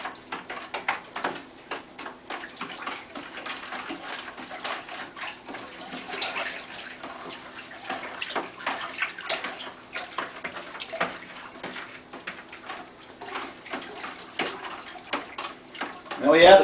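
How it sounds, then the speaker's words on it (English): Sugar is stirred into water in a container for a turbo yeast mash, giving a continuous swishing, sloshing churn with quick rhythmic splashes, while someone talks over it. "Just got to make sure to stir it till all the sugar is dissolved."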